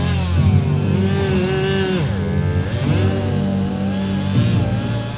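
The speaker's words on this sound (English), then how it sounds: "getting the chainsaws going." Chainsaws run continuously while fallen trees are cleared during Hurricane Helene relief work in North Carolina, their engines droning loudly and rising and falling in pitch with revs.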